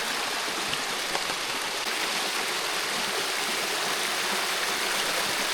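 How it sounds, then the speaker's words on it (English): Continuous broadband rush of water cascading over rocks, steady and fairly close, with no voices. "Pretty little waterfall cascading down through there"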